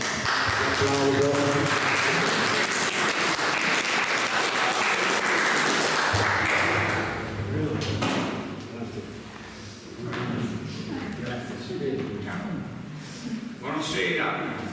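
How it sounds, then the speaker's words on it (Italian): Warm applause from an audience at a poetry reading, full and continuous for several seconds, then fading into scattered claps, thumps and murmuring voices. "Applauso."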